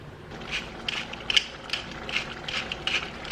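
Black pepper being cranked through a pepper mill over a pot of spaghetti sauce, giving a run of close, dry ratcheting crunches in quick uneven bursts, with no voices.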